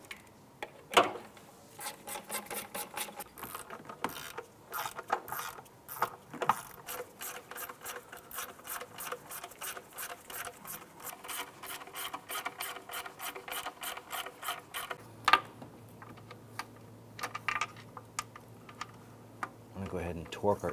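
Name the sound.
ratchet tightening Jeep Wrangler intake bolts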